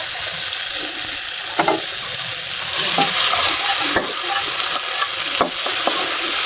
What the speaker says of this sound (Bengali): সামান্য একটু তেল দিলে আমি বেগুন দিই, ছোটো ছোটো বেগুন